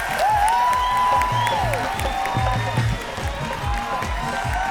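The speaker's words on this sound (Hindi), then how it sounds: "थोड़ी और जोर से ताली बजाइए।" A studio audience at a Hindi comedy stage show applauds loudly and steadily, with scattered cheers and whoops over a thumping musical beat.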